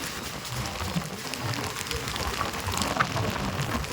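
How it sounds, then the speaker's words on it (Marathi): Heavy monsoon rain pours steadily over rice paddies in the Konkan countryside near Ratnagiri, a dense, even roar of drops with no pauses. "पाऊस बघा किती"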